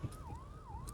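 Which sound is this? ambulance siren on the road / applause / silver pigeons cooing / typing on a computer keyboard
ambulance siren on the road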